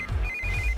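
A thin electronic phone ringtone trills steadily over low rumbling background noise.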